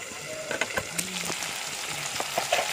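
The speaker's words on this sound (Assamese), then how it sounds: "এয়া মাংসবোৰ অলপ অলপকৈ সিজিছে।" Meat frying in a pan beside cut potatoes, a steady close sizzle with scattered small pops and crackles, no talking.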